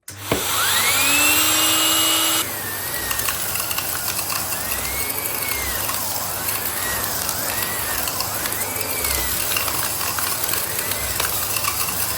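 A Kenmore Elite Pet upright vacuum cleaner running with its Pet Handy Mate tool gives a loud, steady motor whine that starts abruptly, then drops to a lower strained drone with wavering tones and bumping noises.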